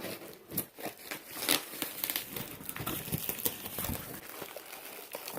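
Packaging crinkles and crackles as a heavily taped cardboard box holding an olive wood handmade chessboard is ripped open, with continuous close rustling and tearing in irregular bursts.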